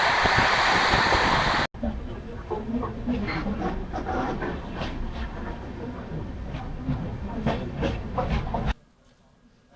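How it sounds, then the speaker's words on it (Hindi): Dhanbad-Bhubaneswar Express rolling into Rajgangpur station platform 1, a steady near rumble of wheels and carriages with scattered clicks and squeals, ending abruptly in quiet. "प्लेटफॉर्म नंबर 1 पर आई है हमारी ट्रेन।"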